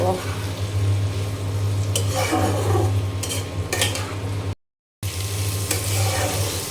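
Pointed gourd and potato fry in a pan as they are stirred, a loud steady sizzle with scattered utensil scrapes, a low hum underneath, and a brief dropout partway through.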